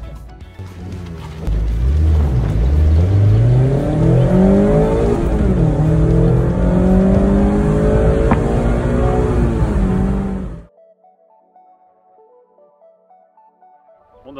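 A Mazda MX-5 ND roadster accelerates hard from 0 to 100 km/h, the engine rising loudly through several gears with shift dips, heard from inside the car before cutting to near silence.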